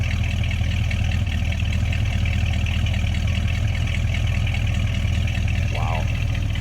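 A 1968 Dodge Dart GTS's 340 V8 idles with a steady, low rumble throughout, with a brief voice near the end.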